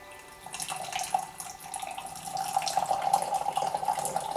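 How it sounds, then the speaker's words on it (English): Raw 2005 Menghai Dayi pu-erh tea dripping and trickling as it brews, a steady close liquid patter that swells slightly and continues without a break, with no voices. "Dripping a little bit."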